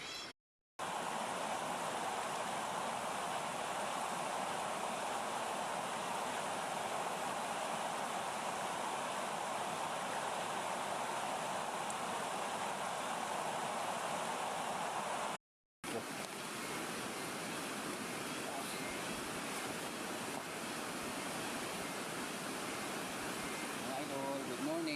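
River water flowing steadily beside a forest bank, a continuous broadband rush that fills the scene almost without pause, with a brief break partway through.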